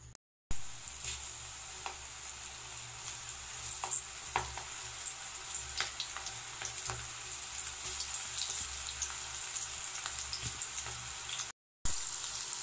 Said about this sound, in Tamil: நெக்ஸ்ட் ஆயில மீடியம் ஃப்ளேம்ல வச்சிட்டு ஒரு 5 மினிட்ஸ்க்கு கொதிச்ச அப்புறம் ஒண்ணொண்ணா நான் பக்கோடாவை போட்டு